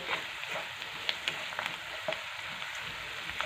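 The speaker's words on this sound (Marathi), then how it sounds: "आता हळद पण पहा आपले तेलामध्ये छान परतून झालेली आहे" Turmeric sautéing in hot oil in a pan for a tomato chutney, giving a continuous crackling sizzle with scattered small pops and spatters, close and steady, no one talking.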